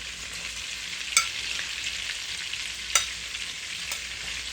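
Meatballs from a three-meat blend searing in an uncrowded pan, a steady broadband sizzle throughout with a couple of sharp clicks or spatters, no voices.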